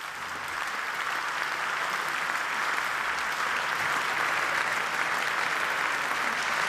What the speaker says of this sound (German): Freundlicher Applaus für Jens Spahn